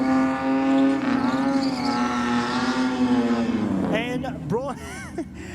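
A six-cylinder Ford AU Falcon drag car roars loudly at a dragway, its engine note held steady then dropping and rising through quick rev changes, with a commentator talking over it throughout.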